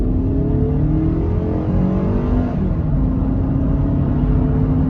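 A 2003 Toyota Camry with a 2.4 engine and automatic gearbox accelerates from inside the cabin, its engine drone climbing steadily in pitch, easing briefly at a shift, then rising again, loud and continuous.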